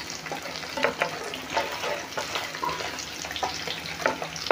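Paneer fries in hot oil in a pan, a dense continuous sizzle with crackling pops and occasional stirring scrapes, close-up and steady, no talking.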